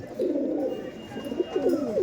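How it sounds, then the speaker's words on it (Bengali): Giribaz pigeons coo in close, repeated throaty rolls, rising and falling in a few bursts without talk. "বিকিদার কাছে গিরিবাজ পায়রা আছে"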